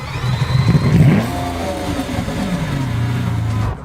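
Lamborghini Aventador SV LP750-4 engine revving inside a tunnel, a loud close roar that swells, then drops to a steady echoing idle burble.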